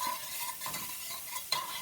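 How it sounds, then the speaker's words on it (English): Shallots and garlic sizzling in butter in a pan, a faint steady hiss and crackle with occasional soft stirring scrapes, close and quiet, no talk. "These are starting to sizzle up real nice,"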